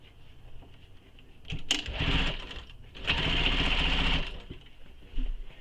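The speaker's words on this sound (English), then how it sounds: "So I'm going to baste it all the way across" Domestic sewing machine running long basting stitches across a fabric panel and slip pocket for a travel bag. Two fairly quiet bursts of rapid whirring stitching are separated by a short pause, with a brief mechanical clunk near the end.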